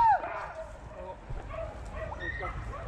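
A dog yips and barks faintly during a rabbit and hare hunt with greyhounds, short calls under excited talking from nearby people.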